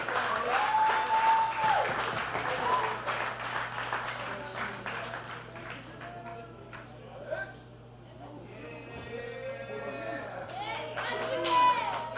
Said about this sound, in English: Round of applause for Laurentis X for an amazing effort agains